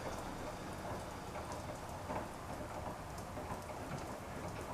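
Water runs steadily into an Eco 27 water heater as it slowly fills, a faint, even hiss and patter continuing without pause, with no talking.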